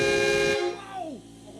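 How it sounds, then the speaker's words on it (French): A TGV high-speed train sounds its horn in a loud, sustained blast that cuts off sharply and then fades with a falling pitch, followed by quieter background noise. "il y avait un klaxon de TGV"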